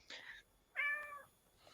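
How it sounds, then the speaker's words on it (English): A cat meows twice, a short bright first call followed by a longer tonal meow, fairly close and clear with no talk over it. "Cat! Not my cat this time."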